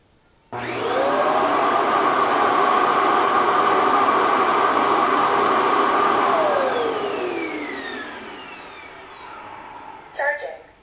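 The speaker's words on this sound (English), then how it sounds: "Start dust collection." The self-emptying dock of an Ultenic T10 Elite robot vacuum starts abruptly and roars loudly and steadily for about seven seconds as it pulls dust from the robot, then winds down with a falling whine, followed by a few clicks.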